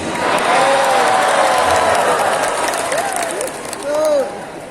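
An audience at an Islamic lecture for the Prophet's birthday claps loudly and continuously, a dense wash of applause with a voice speaking over it and a swell of cheering near the end.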